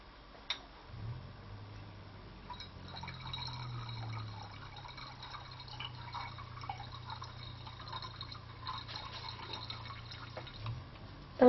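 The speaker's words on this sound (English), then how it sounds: "Next, add about 50 milliliters of toluene into the potassium permanganate solution." Toluene is poured into a potassium permanganate solution, giving a faint, steady trickling and dripping of liquid with a few small clinks, quiet and close, with no talk.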